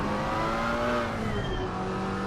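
A McLaren GT race car in Assetto Corsa Competizione revs hard and sustained, a loud, urgent engine note climbing steadily with no talk over it.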